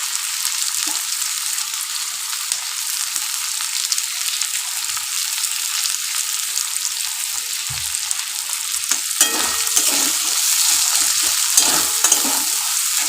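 Onions frying in oil for a chicken curry give a steady, loud sizzle throughout, with occasional soft stirring and scraping sounds and no talk.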